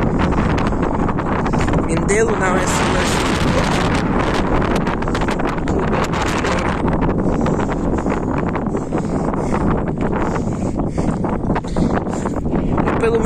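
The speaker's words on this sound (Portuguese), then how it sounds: "E olha esse vento, gente." Strong wind buffets the microphone outdoors near Mindelo, a loud continuous roar and rumble throughout, while a person speaks Portuguese over it.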